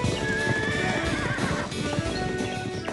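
Horses in an animated cartoon whinny and neigh over a steady clip-clop of hooves, all loud and close, with the trotting rhythm continuing throughout.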